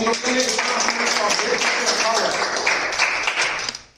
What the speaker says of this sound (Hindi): पहले तो इन दोनों के लिए तालियां